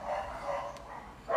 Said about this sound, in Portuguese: esse barulho de cachorro aqui tá bem alto